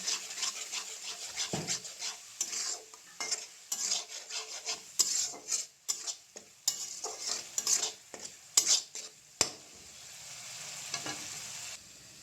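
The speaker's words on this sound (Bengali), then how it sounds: "দিয়ে দিলাম জিরে গুঁড়ো, দিয়ে দিলাম ধনে গুঁড়ো, দিয়ে ভালো করে মশলাটা ভাজতে হবে।" Cumin and coriander powder spice mix frying in a pan, heard as a quiet sizzle broken by frequent scraping stirs and clinks, with a steadier hiss near the end.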